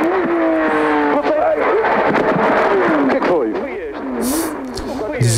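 A rally car roars loudly at close range during a road rally stage, the engine accelerating and climbing in pitch, then bouncing repeatedly off the rev limiter in stuttering cuts, with a voice talking over it.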